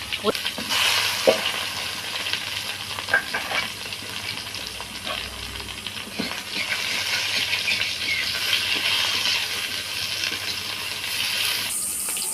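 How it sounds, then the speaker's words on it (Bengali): Eggplant pieces frying in oil, a steady close sizzle with scattered sharp pops and clinks of a spatula against the pan, moderately loud throughout. "এই তেলেতেই আমি বেগুনটা ভেজে নেব বেগুনটা ভেজে নিচ্ছি"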